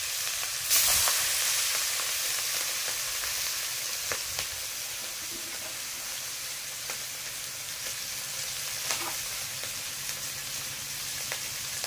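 Hilsa fish frying in mustard oil in a wok, a steady close hiss and sizzle with a few faint scrapes and pops, no voices.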